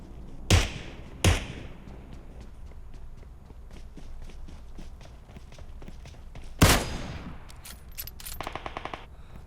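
Automatic gunfire in the mobile battle-royale game PUBG Mobile: a few loud, sharp bursts near the start and middle, then a rapid string of quick shots at the end, with footstep-like thuds in between.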